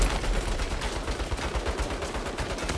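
Rapid turret gunfire in the Saints Row reboot, a dense continuous barrage of loud, close automatic shots that fills the whole stretch without pause.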